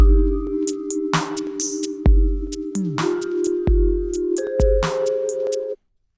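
Layered music loops: a drum beat loop with a second loop coming in over it, giving steady repeating kick hits under sustained synth tones and bright accents, played alone and ending abruptly.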